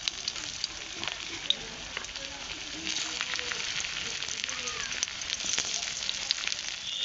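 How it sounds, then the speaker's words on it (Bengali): Stuffed pointed gourds fry in oil in a kadai over a clay wood-fired stove, a steady crackling sizzle with small pops that grows slightly louder midway. "এবার একে এক করে পটলগুলো ভেজে নেব।"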